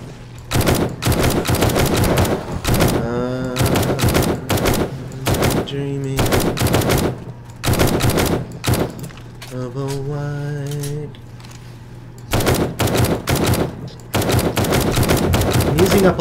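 AK assault rifle firing in loud, sustained automatic bursts during a horde night in a survival video game, repeated bursts separated by short pauses with occasional tonal game sounds between them.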